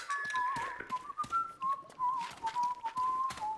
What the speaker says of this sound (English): Where's this whistling guy?